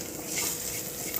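Sabudana khichdi being sautéed in a pan with curry leaves, a soft steady sizzle with light stirring, close and continuous with no voices.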